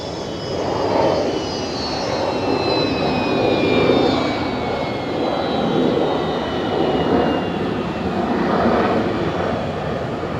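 Air New Zealand airliner at Brisbane Airport, a continuous loud jet engine roar with a broad rumbling wash and faint high whine, steady and close throughout.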